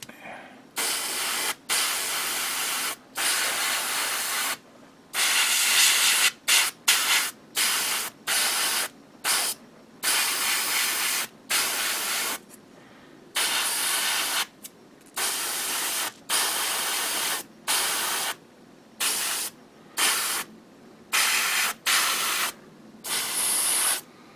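Spray paint in a creamy trim colour hisses onto a Gundam diorama model in many short, loud, close bursts separated by brief pauses, with no talking.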